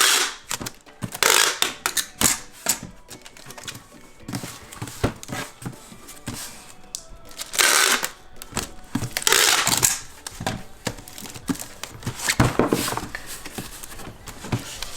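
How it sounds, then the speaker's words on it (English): Packing tape is pulled from the roll and pressed across the top and bottom flaps of a shoe box being packed for shipping, giving repeated loud rasping tears and rustling bursts with short pauses between them. "So I like to tape up the top and the bottom just to make sure that the flaps don't open up"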